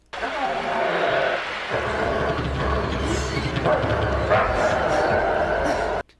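A dog barks and yips in a television episode, a few short barks mixed over background score and other sounds, with speech also present.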